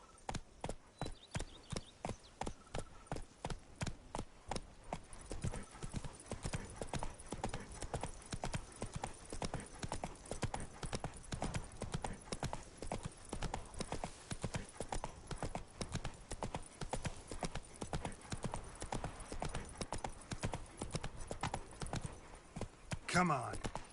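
Horse hooves clip-clopping steadily on hard ground in The Witcher 3: Blood and Wine, a fast, even rhythm running throughout at moderate volume, with a brief voice near the end.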